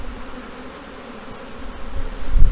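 Honeybees buzzing steadily around an open hive during an inspection after a swarm, a dense continuous hum that swells louder toward the end, no talking.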